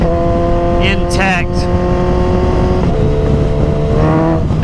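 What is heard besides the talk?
2022 Suzuki Hayabusa motorcycle engine revving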